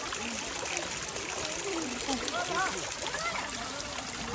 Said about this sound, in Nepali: यो जुत्ताबाट पानी आइरहेको